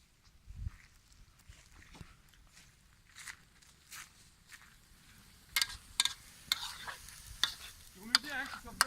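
Green and yellow pasta frying in a pan over an outdoor campfire, stirred with scraping clicks and soft crackling sizzle, growing busier toward the end.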